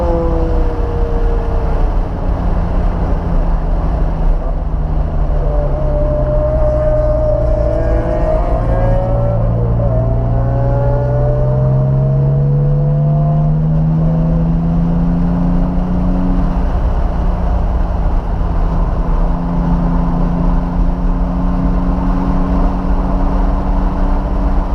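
Porsche 911 lapping a race track at night, engine droning loudly from inside the cabin with rising and falling revs through gear changes and corners, a constant close roar.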